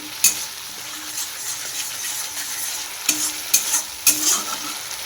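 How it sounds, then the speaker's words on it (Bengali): Spice masala with tomato being stir-fried in a pan, a soft, even sizzle punctuated by several sharp scraping stirs, close and without talk. "এখন আমি নুন হলুদ কিছুই দিইনি জাস্ট মশলাটা কষাচ্ছি"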